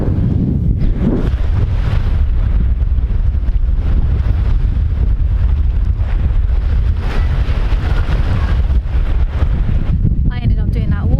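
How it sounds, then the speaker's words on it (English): Strong wind on the Zadar seafront roars and buffets hard against the microphone without a break, with a faint voice near the end. "You could probably hear in the background it is really windy"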